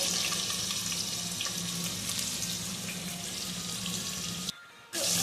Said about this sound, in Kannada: ಇದೊಂದು ಈರುಳ್ಳಿ ಒಗ್ಗರಣೆಗೆ ಹಾಕ್ತಾ ಇದ್ದೀನಿ